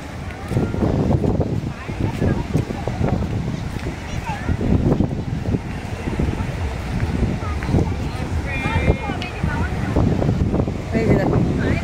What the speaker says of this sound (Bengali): রাতের সমুদ্র, দেখে দেখে নাও, রাতের দীঘা, রাতের সমুদ্র।